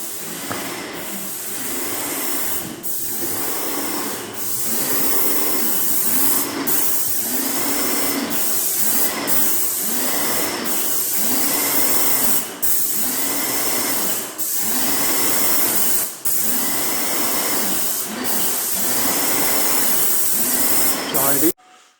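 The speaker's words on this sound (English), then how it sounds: "Spray the first coat on the walls now." Paint sprayer coating the walls of an old rectory in Wales, a steady loud hiss that runs in repeated bursts of several seconds with short breaks between passes, with talk faintly in the background.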